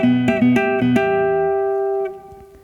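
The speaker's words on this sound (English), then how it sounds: "The second section taps onto 2 strings at the same time with both the left and right hand." Electric guitar two-hand tapping on two strings at once, left and right hands hammering notes, from a tune; a few quick plucked attacks ring into a sustained tone that fades out, with no talk.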